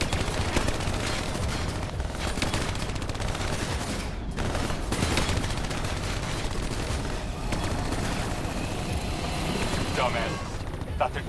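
Call of Duty Black Ops 3 gunfire rattles almost nonstop in dense automatic bursts, loud and close, layered with booming combat noise and scattered game voices.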